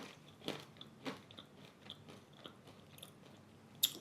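Salted caramel pretzel almonds crunch between the teeth in a quiet, close setting, several soft bites and chews spaced out over a few seconds with one sharper click near the end.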